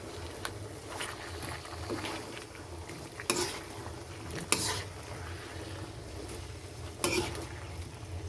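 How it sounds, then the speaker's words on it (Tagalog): Pork pochero with carrots, potatoes and saba banana is stirred in a pot, a faint soft sizzle and scraping with a few sharper clinks of the spoon against the pan. "So, haluin lang natin mabuti."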